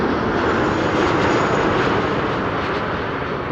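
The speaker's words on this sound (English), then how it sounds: "The Finnair A350 to bloody Helsinki." A Finnair Airbus A350 airliner passes at Amsterdam Schiphol on a sunny day, a steady, loud broadband jet roar that stays constant throughout with no talking.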